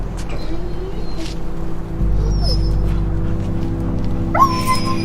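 A dog whimpers and yips in short, high whines over a steady low hum and background noise, with a brief brighter whine near the end.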